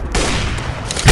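Rapid gunfire in the MaskGun mobile first-person shooter game, a dense, loud burst of shots filling the whole short moment and swelling again at the end.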